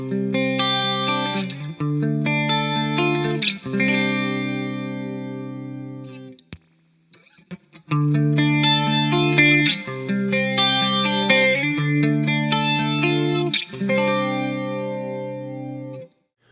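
Clean electric guitar chords with a shimmering, wavering chorus effect, played in a repeating pattern with a short pause midway, sustained notes ringing out.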